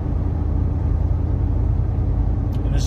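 A car approaching on the road as heard from inside a vehicle fitted with a dash cam: steady, loud low rumble and road roar throughout, with a brief higher whoosh near the end and no talking.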